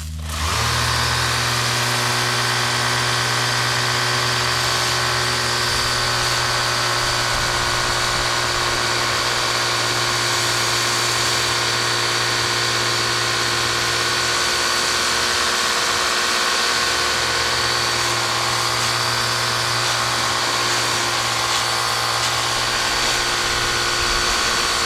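Ryobi 40V HP 600 psi power cleaner spraying through a 15-degree nozzle, a loud steady motor whine with a constant hissing water jet, running alone without pause.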